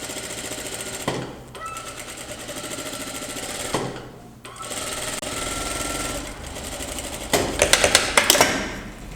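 A sewing machine stitches a curved seam on a pair of trousers in fast, rattling bursts separated by short pauses, with a quicker, louder run near the end.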